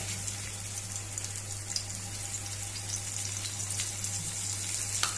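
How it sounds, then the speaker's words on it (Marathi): Mussels sizzle steadily on a hot flat griddle (tava), a continuous crackling hiss over a faint low hum, with no one talking. "ही पळय अशी तव्यार घालप आनी भाजप"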